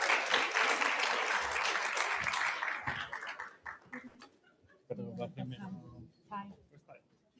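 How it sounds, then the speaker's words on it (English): A round of applause at a real-estate professionals' event in Dallas, loud and dense at first, then thinning to a few claps as voices and talk take over. "Round of applause, please."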